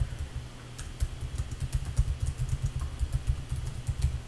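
Computer keyboard typing while renaming a layer: rapid, irregular key clicks and clatter, close and moderately loud, over a steady low hum with no talk.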